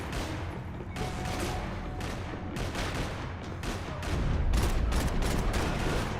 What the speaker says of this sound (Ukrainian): Це ще автомат так чисто по інерції стріляє.